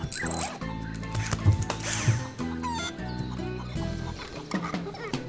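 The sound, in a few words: chicken clucking in video game Escape from Monkey Island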